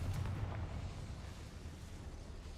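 Confringo, an explosive spell cast in the Hogwarts Legacy game, gives a low, rumbling burst that swells at the start and settles into a faint, steady roar over a couple of seconds.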